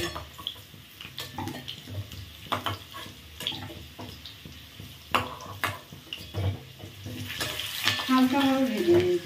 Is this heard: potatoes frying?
yes